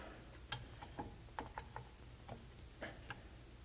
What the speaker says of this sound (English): right here I'm just using a 4-inch C-clamp, and you're going to tighten that down